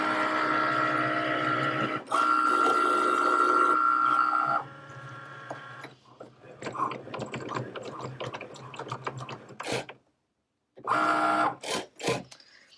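A Cricut cutting machine slices glitter cardstock, giving a steady whirring motor hum with tonal whines that shift as the carriage moves, then clicking, ratcheting movements and a brief pause before a few final whirs.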